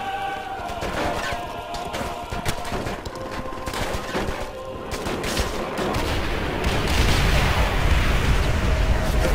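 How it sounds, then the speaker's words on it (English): Gunfire in the World War II shooter Call of Duty: World at War, with dense bursts of rifle and machine-gun shots and distant booms building into a continuous loud battle roar. "Who is shooting me?"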